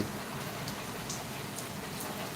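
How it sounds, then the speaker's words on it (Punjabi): Steady, soft rain patters continuously in Sandhwan village, Punjab, a quiet even hiss with faint scattered drops. "ਇਹ ਮੀਂਹ ਪੈ ਰਿਹਾ ਪਿੰਡ ਸੰਧਵਾ ਵਿਖੇ"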